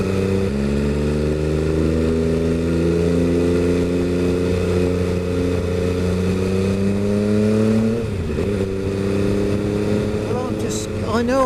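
An MV Agusta F3 800 sport motorcycle is ridden at steady cruising speed with a smooth, loud engine drone that eases off briefly around the eighth second before picking up again, with light wind noise throughout.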